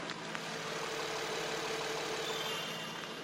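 A 2.5-litre V6 car engine idles quietly and evenly, a smooth, low steady hum with no revving, heard up close.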